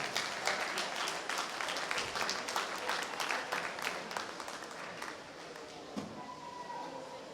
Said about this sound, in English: Give her a big round of applause as she comes to the wall.